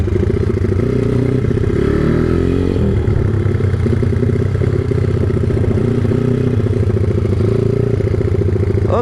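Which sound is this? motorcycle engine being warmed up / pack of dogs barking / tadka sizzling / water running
motorcycle engine being warmed up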